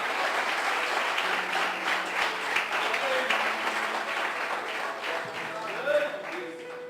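A church congregation applauding with dense clapping while voices call out and a preacher speaks over it, the clapping tapering slightly at the end.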